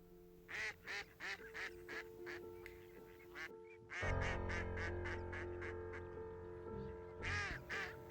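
Wild mallard ducks quack in a steady series of loud, close calls, falling quiet briefly before a rumble of wind or handling noise and then a few more quacks.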